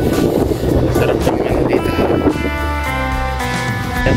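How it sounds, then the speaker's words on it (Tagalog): Strong wind buffets a microphone outdoors in a loud, continuous rumbling roar. Someone speaks briefly over it, and a faint musical tone drifts in toward the end. "Lakas ang hangin."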